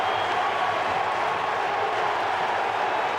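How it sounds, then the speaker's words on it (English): A stadium crowd at Heinz Field roars in a sustained, dense wash of cheering and clapping at an NFL game, Denver versus Pittsburgh, heard loud and continuous. "This crowd getting stirred at Heinz Field."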